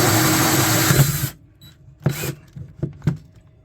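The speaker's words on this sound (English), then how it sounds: "Let's remove that and continue drilling." Power drill boring through material in a sailboat bilge, a loud continuous whine for over a second, then silence followed by several short bursts of drilling and clattering handling noises nearby.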